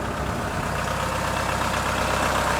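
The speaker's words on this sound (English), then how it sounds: "good running tractor." A Kubota M5660 SU tractor engine runs steadily at idle nearby, a constant low diesel rumble with no talk.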